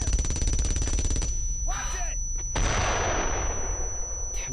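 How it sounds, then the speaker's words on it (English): Mortar fire in the World War II game Brothers in Arms: Road to Hill 30, with heavy rumbling blasts and rattling gunfire, a loud burst, a brief lull with a whooshing sweep, then another sustained roar. "Oh, damn, the mortars"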